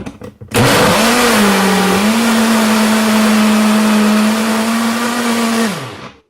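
A Breville blender runs a protein smoothie at full power, a loud steady whir that starts abruptly, dips briefly as the load settles, then holds constant before winding down, with no talking.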